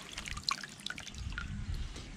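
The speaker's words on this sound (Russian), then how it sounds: "это то, что у нас из крана льется после нагревательного прибора" Hot water running from a kitchen tap after a heating appliance, a close splashing trickle with scattered bright drips and plops over a continuous wash.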